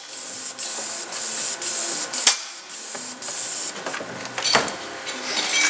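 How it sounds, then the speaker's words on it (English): A spray gun sprays catalyzed material in repeated short bursts of loud, close hissing, each spurt separated by brief pauses, with no talking. "We're going to spray a little material just to make sure that we're going to get catalyzed material out of the gun."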